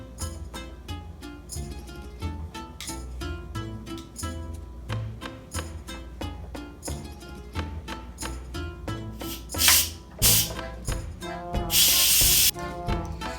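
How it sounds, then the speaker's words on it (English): An Instant Pot pressure cooker vents steam in loud, short hissing bursts near the end, set over steady background music. "Now the steam has been released."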